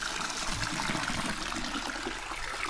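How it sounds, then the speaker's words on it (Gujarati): Water pours steadily from a peacock-shaped spout in a continuous, even gushing flow heard close by, with no pauses and no talk. "આ ઉંબરામાંથી પાણી આવે છે"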